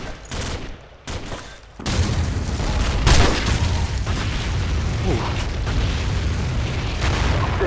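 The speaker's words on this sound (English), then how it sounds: "They're targeting our position with mortars." Mortar fire in Call of Duty 4: Modern Warfare, a dull rumbling barrage of booms and blasts rolling over continuous battlefield noise, with a heavier impact standing out midway through.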